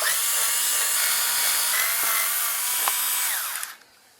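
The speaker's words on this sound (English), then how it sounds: "we're going to want to remove these 3 Torx T25 screws so that we can better access the PCV" Torx T25 screws being backed out of the engine cover on a Ryobi 990R with a power driver, a steady loud whirring drone that runs for several seconds and then stops abruptly near the end.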